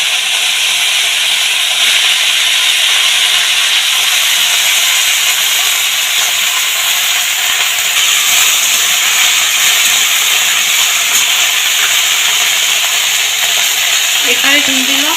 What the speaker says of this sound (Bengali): তা প্রথমে এই সজনে ফুলটা একটু ভেজে নেব।